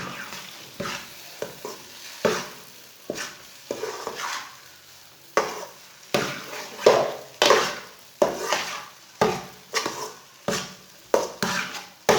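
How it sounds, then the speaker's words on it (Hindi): Spoon stirring egg into semolina halwa in a pan, a steady series of scraping strokes with soft sizzling beneath, close and moderately loud, no voices. "अंडा डाल के मिक्स कर लेंगे"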